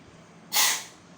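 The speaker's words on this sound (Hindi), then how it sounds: "I am so sorry, छींका।" A single sudden sneeze from a woman indoors, a sharp airy burst that swells and fades within under a second against a quiet room.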